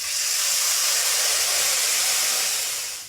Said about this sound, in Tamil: புளி கரைசல் சேர்த்து நல்லா மிக்ஸ் பண்ணிவிடுங்க.